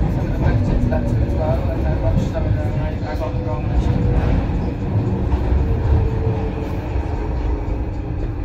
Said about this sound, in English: Stop the train. The train is stopping.